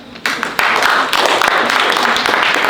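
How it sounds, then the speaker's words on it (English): A lecture audience breaks into applause, starting with a few claps and swelling quickly into dense, sustained clapping from a roomful of people close by. "Give yourselves a hand clap."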